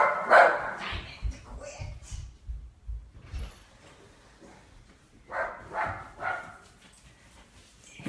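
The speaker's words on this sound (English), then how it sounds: "my cleaners are driving up and my dog's announcing them" A dog barks repeatedly at cleaners driving up to a house on a rural acreage, sharp bursts in two clusters, loud and close, with some whimpering yips between.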